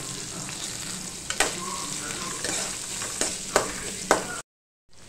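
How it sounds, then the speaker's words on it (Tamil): Onions with mint, curry leaves and coriander sautéing in a pan, a close steady sizzle with several sharp scraping stirs, then a sudden drop to silence near the end. "வெங்காயம் நல்லா வதங்கட்டும்"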